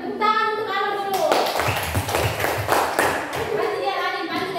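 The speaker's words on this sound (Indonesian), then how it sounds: "Tepuk tangan untuk Alun dulu." Children in a classroom clap for a classmate named Alun, a brisk burst of scattered hand claps with a few thumps. A voice speaks just before the clapping and again right after it.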